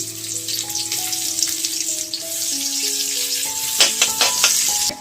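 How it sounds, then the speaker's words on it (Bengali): Onions for tempering fry in hot oil in a wok, making a steady, close sizzle and crackle with a few sharper spits near the end. Faint tonal notes run underneath, and no one speaks. "কড়াইতে আমি তেল দিয়ে দিয়েছি এখন দিয়ে দিচ্ছি পেঁয়াজ ফোড়ন"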